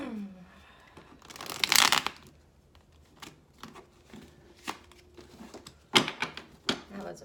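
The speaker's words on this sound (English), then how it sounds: "That was a messy shuffle." A deck of tarot cards is shuffled by hand in a messy, uneven way, with a loud riffling burst early on followed by scattered softer flicks and taps, close up and without speech.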